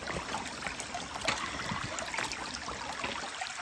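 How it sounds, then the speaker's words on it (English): Creek water running steadily over rocks outdoors, a continuous close rushing and trickling wash with small splashes, no voices. "I'm gonna walk down this creek"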